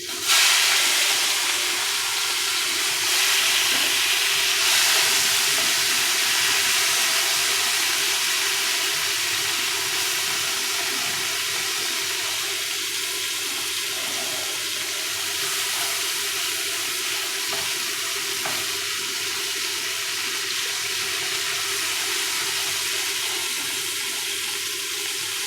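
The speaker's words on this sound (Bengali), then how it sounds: "মাছটা একটু উল্টে পাল্টে ভালো করে ভেজে নেব" Shrimp marinated with salt and turmeric sizzles in a hot pan with fried cumin seeds, a steady, loud, hissing fry that holds without a break for the whole stretch, with no voices over it.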